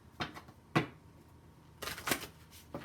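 A deck of cards shuffled by hand, with a short riffle burst near the start and a longer riffle-and-bridge run toward the end, close and fairly quiet.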